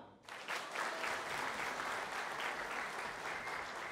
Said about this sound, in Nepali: तपाईँहरूको ताली अघिदेखि जसरी बजिरहेछ